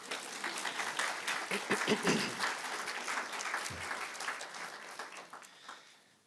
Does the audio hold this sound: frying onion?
no